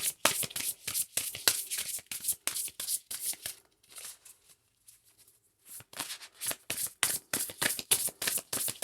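Tarot cards being shuffled by hand, a close, crisp run of rapid riffling and flicking with a brief quieter lull in the middle.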